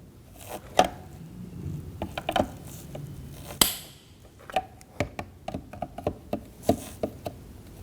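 Plastic clips on a Ford Edge side-mirror cover snap and click sharply as they are pried down, a string of separate close cracks and taps with short pauses between them and no talking.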